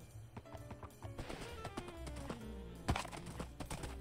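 Horse hooves clopping in a video game, a steady uneven trot with a sharp knock partway through, no talking.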